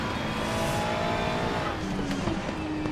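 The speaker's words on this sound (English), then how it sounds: "This Ferrari does like a good slide." Ferrari GT race car sliding at Watkins Glen in the Assetto Corsa Competizione sim, with a loud steady engine roar and tires squealing through the slide, the squeal rising in the final second.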